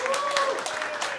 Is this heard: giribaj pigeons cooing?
no